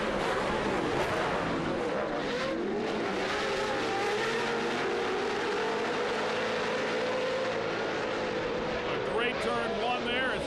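Pro 2 and Pro 4 off-road race trucks roar together at a race start, a loud sustained engine drone with rising revs and passing engines, under an announcer's continuous commentary.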